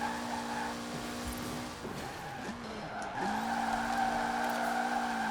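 Mitsubishi rally car on a soft-suspension build in Forza Horizon 4, driving off-road with a steady engine drone that dips and revs back up, with tire scrubbing in between, close and continuous.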